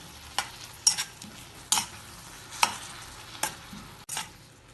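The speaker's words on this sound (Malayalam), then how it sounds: "ഇതിനി ഇളക്കി കുറച്ചമ്മ വരട്ടിയെടുക്കാം" Spatula scrapes repeatedly through a thick jackfruit, jaggery and coconut mixture reducing in a pan, with several distinct, fairly close strokes spaced about a second apart and a low background hiss.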